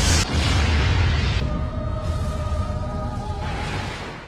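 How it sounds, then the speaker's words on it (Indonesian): A film car explodes in midair, then plunges off the end of a pier: a loud, dense roaring blast with whooshing debris that fills the clip, then settles into a sustained rumble. "mobil itu pun melaju dengan kecepatan tinggi, dan akhirnya meledak di udara dan tercebur di ujung dermaga"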